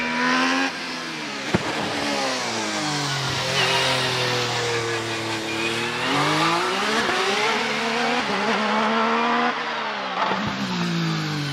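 A 2.4 V6 Cosworth race car charges up the Prescott hillclimb, a loud, close engine wail climbing and dipping through repeated gear changes.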